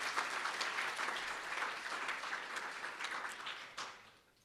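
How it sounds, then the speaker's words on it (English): Assembly members give a sustained round of applause in a chamber, the dense clapping holding steady before tapering off at the close. "can you give Carol and the team a big round of applause?"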